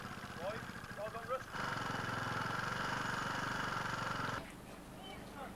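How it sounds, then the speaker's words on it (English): A four-stroke motorcycle engine at a beach race idles with a steady mechanical cam chain rattle and quiet hum that swells in the middle, then drops back down, with a voice faintly around it. "4-stroke machine going through here. Sounding very quiet as well."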